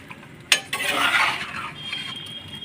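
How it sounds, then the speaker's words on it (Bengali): Potatoes being stirred in a metal cooking pot, with a sharp clink of a utensil against the pot followed by a scraping, rustling swirl that fades out, close and fairly loud. "দিলাম আলুতে আমি সুন্দরভাবে নাড়া দিতেছি"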